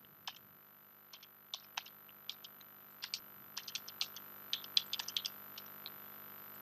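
Keystrokes on a computer keyboard type out a command in an uneven burst of quiet, close clicks that speeds up toward the end, with no voices.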